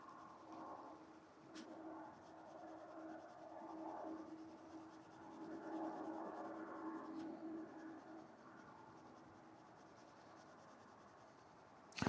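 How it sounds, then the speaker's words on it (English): A Derwent Lightfast colored pencil drawing lines on paper, faint close scratchy strokes in long continuous passes with brief pauses, quiet and alone. "I'll do that by just drawing a few lines ahead of time to let me know what direction I need to be going there."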